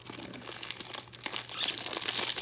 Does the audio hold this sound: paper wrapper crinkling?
yes